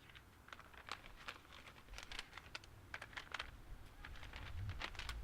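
A sheet of paper handled and unfolded at a celebration-of-life gathering, faint crisp crinkles and rustling taps scattered through the quiet room, close by with no speech.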